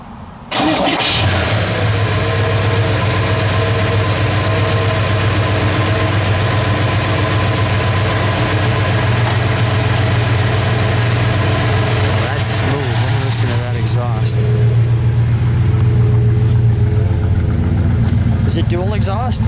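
A 1949 Cadillac Coupe DeVille prototype with dual exhaust cranks and fires up, then settles into a steady, deep, loud idle. The idle carries on close by for over fifteen seconds while people talk nearby.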